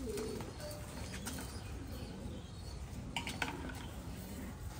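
Soft cooing from a close female pigeon, with clattering and scraping in the background and a steady ambient hum.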